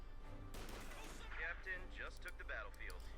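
Rifle gunfire in the video game Company of Heroes 2, as German Grenadiers are driven back by American riflemen: a burst of sharp, fairly close rifle shots followed by fainter scattered shots, under a voice talking.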